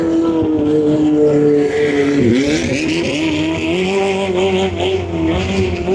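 A loud, high-revving racing speedboat engine roars continuously, its pitch rising and falling as the boat races past at close range during a boat race in Thailand.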